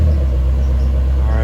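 A Dodge SRT-4 engine running steadily just after cranking to life on a fresh battery, a loud, close, continuous low rumble with no break across the short span.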